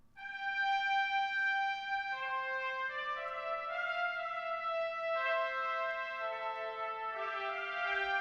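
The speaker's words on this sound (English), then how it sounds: "Just the BBC one trumpet sounds like this." A BBC library trumpet sample plays alone, a slow sustained melody of held notes stepping downward and back with heavy reverb, steady and fairly soft, with no voices.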